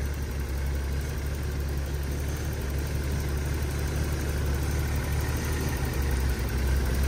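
A Datsun 280ZX engine idles steadily after a fuel pump module repair, a constant low rumble holding at even loudness throughout with no talking.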